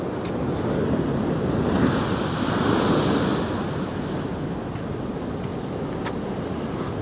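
Sea waves roll and crash along the Paphos seafront in a gale, a dense, continuous roar of surf swelling and easing, with wind buffeting the microphone throughout.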